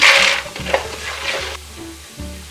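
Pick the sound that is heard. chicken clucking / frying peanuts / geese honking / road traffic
frying peanuts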